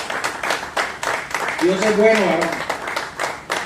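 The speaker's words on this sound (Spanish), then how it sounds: "Dale un fuerte aplauso a nuestro amado y poderoso Dios en esta mañana." A church congregation at a Sunday morning Spanish-language service claps in loose, uneven applause while a preacher speaks over it.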